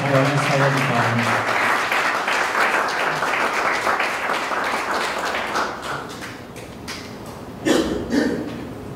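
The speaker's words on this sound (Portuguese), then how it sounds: "Vamos receber o Fernando Cacau na sala de palmas." A congregation at a church vigil claps to welcome a speaker, with a brief voice at the start before steady applause that gradually thins into scattered claps and a few louder individual taps near the end.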